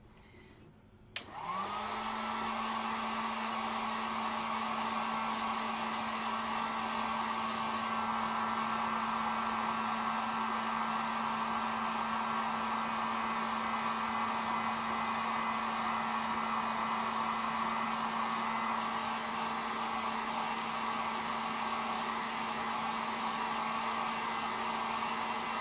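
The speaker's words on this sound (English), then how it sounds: "Let me throw the heat gun on this real quick." A heat gun blasts steadily over fresh acrylic paint, a constant airy whine with a strong tonal hum that starts abruptly and holds unbroken for the rest of the time.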